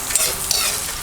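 Garlic sizzles and fries in a pan for a sauce with beef tongue and mushrooms, a short, close, steady crackle with light stirring and no voices.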